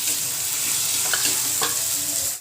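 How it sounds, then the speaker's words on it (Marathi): Chopped tomato sautés in oil in a pan for a spicy green chili kharda, a constant loud close sizzle with a couple of brief scraping stirs. "टमाटर चिरून घेतलेला आहे तो टाकून घेऊया तो त्यात मस्त परतून घ्यायचा आहे"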